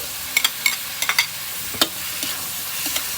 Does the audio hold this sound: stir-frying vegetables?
yes